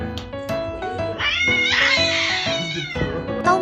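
A cat yowls and caterwauls during a fight, with loud, strained, rising cries sustained across the whole stretch, broken by shorter meows near the start and end.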